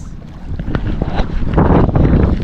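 Strong wind at sea on a small fishing boat buffets the microphone with loud, rumbling gusts and a continuous roar of rushing air and water. The noise swells toward the end, and no voices are heard.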